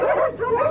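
Dogs barking in an audiobook sound effect: a short burst of excited, yelping barks and whimpering yips, close and fairly loud.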